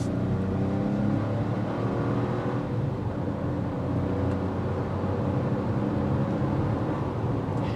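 A 2025 Chevrolet Trax or Trailblazer Activ driving and turning, a steady, loud engine and road drone heard from inside the vehicle, constant throughout with no clear revving peaks and no talking.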